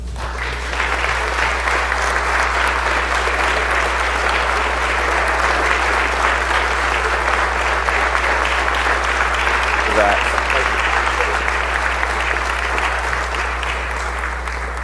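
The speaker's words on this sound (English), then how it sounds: "please give them a warm applause" Sustained audience applause fills a state House of Representatives legislative chamber, steady and dense for the whole stretch, with a low electrical hum underneath and no talking.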